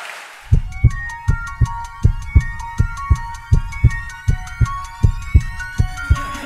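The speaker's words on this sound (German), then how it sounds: "Herzschlag für ein gesundes Berufsleben." Heartbeat sound effect in a podcast jingle, a steady lub-dub thump repeating about every half second over a sustained musical chord, clean and close with no talk.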